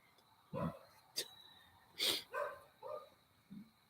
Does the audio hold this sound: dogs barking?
yes